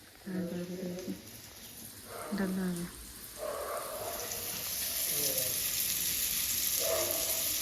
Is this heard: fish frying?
yes